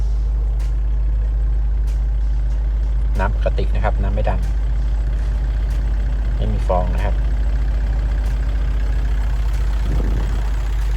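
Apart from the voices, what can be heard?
Kubota L4708 tractor engine idling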